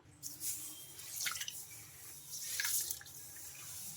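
Finger millet and rice are pressed and rinsed by hand in water, giving soft sloshing and dripping splashes in two brief bursts, fairly faint and close, with no talking.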